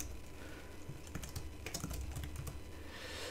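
Computer keyboard keys tapped in a short, irregular run of soft clicks, close but fairly quiet, with no voices.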